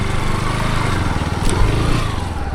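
A motorcycle ridden along a village road with a passenger aboard, its engine droning steadily and close for the whole stretch, with a throbbing low rumble and no clear talk over it.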